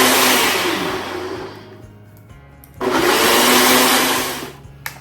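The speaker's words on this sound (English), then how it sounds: "And it's time to blend one more time." A Ninja blender whirs loudly through a smoothie, a dense roaring motor that drops and eases for a moment, then surges back to full power before cutting off.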